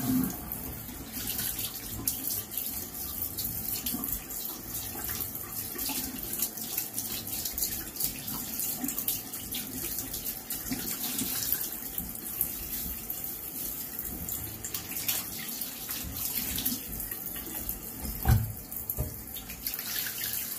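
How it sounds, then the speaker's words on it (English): Tap water runs steadily into a bathroom sink as it fills for rinsing a slant razor head, a continuous close splashing flow with no talking. "Sink fill up again"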